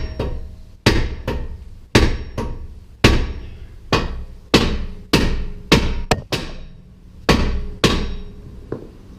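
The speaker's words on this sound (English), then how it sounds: "So we're just going to give her a couple good whacks, and hopefully she'll break loose for us." A hammer whacks a rusted rear wheel spindle and hub on a 2005 Infiniti FX35 during a wheel bearing replacement, about a dozen loud metallic blows close by, spaced roughly every half second to second, each ringing briefly.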